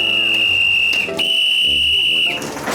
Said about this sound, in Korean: 손님들 놀라지 말라고 미리 신호를 주는 주인장의 센스.